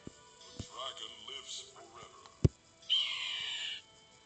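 The phoenix selection sound from the game Kingdom Rush Origins plays as a bird-like caw, with a sharp click and a sustained high cry toward the end, over faint background tones.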